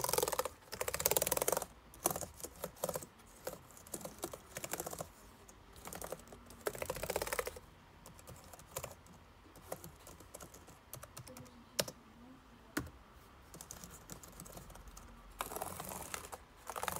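Close, clattering keystrokes on a computer keyboard in quick bursts with short pauses, some keys clicking louder than others.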